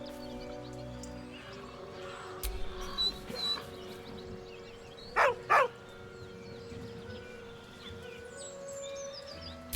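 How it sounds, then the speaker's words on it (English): Dog in the video game Baldur's Gate 3, a few short whining yelps and whimpers rising above quiet ambient background, two sharper cries close together midway. "With a deep, heartbroken whine, the dog bows his head."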